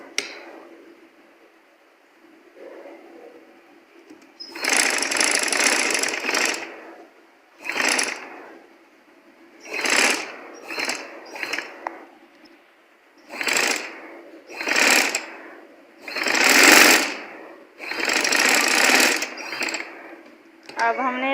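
Sewing machine stitching folded piping onto a stylish sleeve, running in repeated loud bursts of whirring stitches separated by short pauses, close by.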